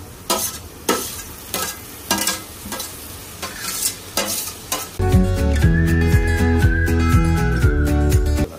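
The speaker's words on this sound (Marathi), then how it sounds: "चला, टमाटर टाकूया आता." Tomatoes are tipped into frying onions and stirred: several sharp scraping stirs come first, then a loud, dense sizzle burst that holds steady with continued stirring and no talk.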